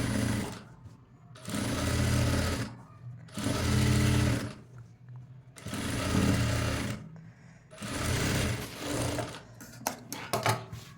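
A sewing machine stitches a cutwork blouse in four long bursts of steady whirring, with short pauses between them and a few quick short runs at the end, close and fairly loud.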